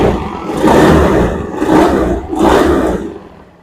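A Honda Beat scooter engine revs up in three surging bursts, rising and falling between throttle pulls, loud and close.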